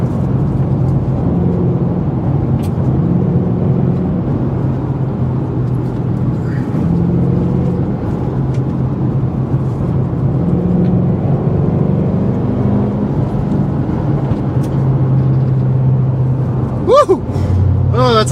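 A 2007 Ford Mustang GT pushes hard through a turn, its loud, low engine rumble holding steady throughout, with a brief rising whine near the end.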